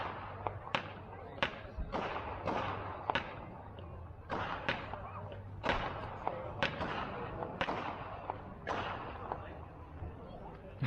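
Fireworks burst at dusk during a bus enthusiasts' gathering, a string of sharp cracks and pops at irregular intervals over a steady crowd murmur, moderately distant.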